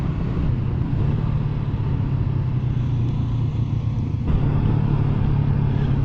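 A Honda CB500 Hornet motorcycle on a test ride gives off a steady, loud engine drone and road rumble. Its low tone holds without a break, with a slight rise in level toward the end.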